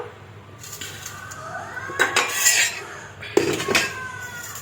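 Hot rice being served onto a plate with a utensil, a few scraping clinks of metal against the dish standing out near and fairly loud over quiet kitchen background.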